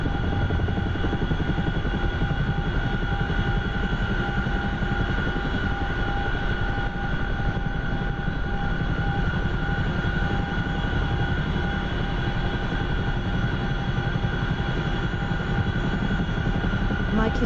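Helicopter engine and rotor noise from the DCS flight simulator game, a constant droning whine with steady tonal hum that runs unbroken and evenly loud throughout.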